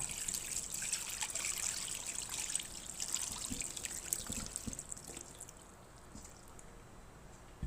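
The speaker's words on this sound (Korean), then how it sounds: "그럼 물을 계량을 해서 한번 어느 정도 들어가는지 한번 부어 볼게요" Water pours steadily into a container packed with sesame leaves being prepared for pickling, a continuous close trickling and splashing that runs the whole time and eases slightly near the end, with no talk.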